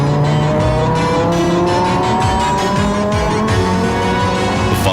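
Audi Quattro five-cylinder turbocharged race car on a qualifying run through the Long Beach street circuit, its engine loud and close as it revs up and down through gear changes with some tire noise.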